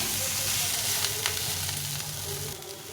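Cauliflower, onion stalks and coriander leaves fry together in a pan, producing a short, steady, moderately loud sizzle with faint stirring scrapes and no voices.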